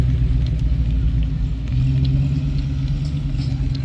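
A modified car's exhaust rumbles steadily and loudly at a stadium car show in Huntsville, Alabama, a deep continuous idle-to-rev drone close to the microphone.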